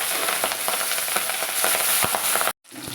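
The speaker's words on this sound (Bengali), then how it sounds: "এই যে কড়াই বসিয়ে দিয়েছি, লোহার কড়াই, তেলটাও দিয়ে দিয়েছি, তেলটা গরম হয়ে গেছে। এবার মাছগুলো দিয়ে দেবো ভিতরে" Pabda fish frying in hot mustard oil in an iron wok, a loud steady sizzle with crackling pops throughout, cutting off abruptly near the end before a softer sizzle resumes.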